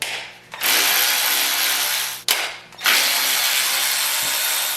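Air ratchet or power tool spinning loose Allen bolts on the lower oil pan of a Mercedes 6.3 engine, with two long loud whirring bursts broken by a brief pause, close by.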